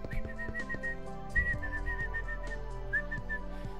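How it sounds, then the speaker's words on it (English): A person whistles in short melodic bursts and brief rising notes against a steady low background drone, close and clear, with no talk over it. "Why would you whistle at somebody to get their attention?"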